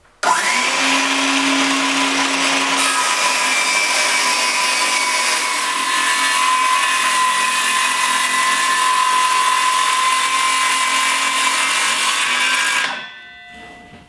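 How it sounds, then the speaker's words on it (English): A circular saw guided by a straight-cut jig rips through taped plywood for a ping pong table top, a loud steady high-pitched whine sustained for about twelve seconds before spinning down abruptly, with no voices. "I also am using this jig that is designed to make a clean cut with a circular saw."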